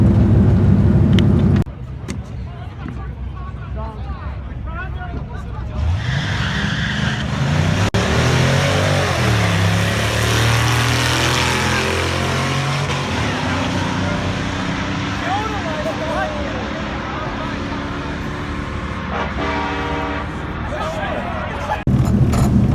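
An LS-swapped Mazda B2200 pickup makes a drag strip pass, its V8 roaring loud and steady for over fifteen seconds over a murmur of track noise.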